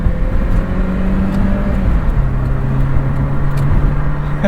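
A 1991 Nissan Figaro car accelerating from inside the cabin, a steady loud engine drone with a tone that holds, then drops slightly as it shifts, over constant road rumble.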